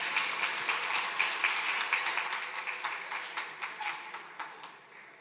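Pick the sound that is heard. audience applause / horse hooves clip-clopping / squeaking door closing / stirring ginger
audience applause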